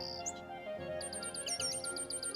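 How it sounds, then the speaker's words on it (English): Birds in an animated Christmas story chirp in quick repeated high tweets, a dense rhythmic run of calls over soft background music. "Elizabeth, why are those confounded birds making such a din?"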